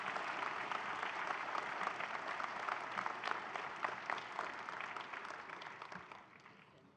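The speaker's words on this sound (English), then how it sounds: "give a round of applause for those who've crossed already" A large audience at an autumn university convocation claps in a dense, sustained round of applause that fades toward the end, with no voices standing out.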